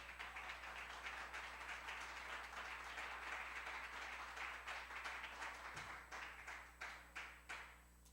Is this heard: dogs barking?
no